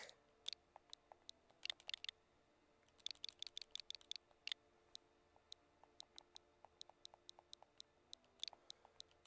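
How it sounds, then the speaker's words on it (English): A computer keyboard is typed on in quick, irregular bursts of light clicks with short pauses, close and quiet. "Just typing in a little thing here"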